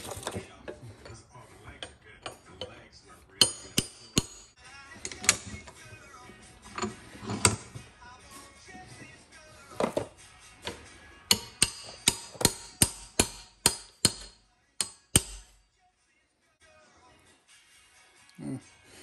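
Sharp metallic hammer strikes ring out repeatedly, some spaced and some in quick bursts, loud and close, ending in near silence, while replacing an intermediate steering shaft U-joint on a truck.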